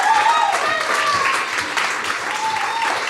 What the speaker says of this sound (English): now we want a little bit more of clapping than that